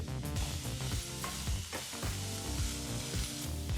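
Sliced onions sizzle in hot oil over a medium flame while being stirred for onion chutney, a steady crackling fry broken by scraping strokes of the spoon, close and moderately loud.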